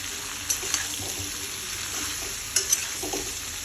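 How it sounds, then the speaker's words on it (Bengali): Mixed vegetables for pach mishali shukto fry in a pan with turmeric and salt, giving a steady close sizzle with light stirring scrapes and a couple of soft clinks. "তো এটাকে আমি ভালো করে এখন হচ্ছে ভেজে নেব সবজিটাকে।"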